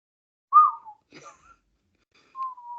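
Two short whistled notes: a falling note, a breathy sound after it, then a steady held note a moment later, close and fairly clear.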